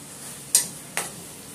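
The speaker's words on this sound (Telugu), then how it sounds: "గరిట పెట్టి తిప్పుకుందాం." A ladle stirs chicken and brinjal curry in a pot, giving two short scraping clinks about half a second apart over a faint background sizzle.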